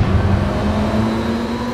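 A race car engine revving at high RPM, a loud, close, sustained droning roar with a steady pitch across the short clip.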